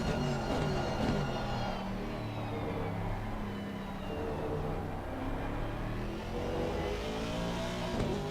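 Race cars roar around Monza in a racing video game, a continuous layered engine drone with rising and falling pitch as several cars accelerate together.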